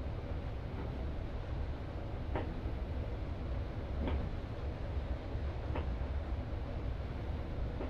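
BR442 Talent 2 electric multiple unit running through Train Simulator's Berlin–Leipzig route: a steady low rolling rumble with periodic faint ticks and clacks from the rails, constant and unbroken throughout.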